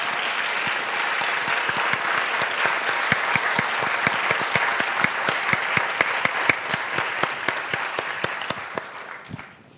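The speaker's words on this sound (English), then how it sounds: "please join me in giving everyone a round of applause" Audience at a food advocacy panel event gives a round of applause, dense steady clapping from a sizable crowd that thins and fades out at the end, with no talk over it.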